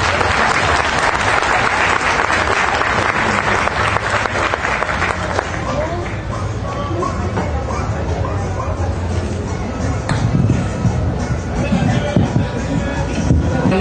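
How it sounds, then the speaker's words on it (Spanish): Loud audience applause at an outdoor book fair, a dense clapping crowd for about five seconds that gives way to crowd hubbub and people talking. "así que les pido un aplauso,"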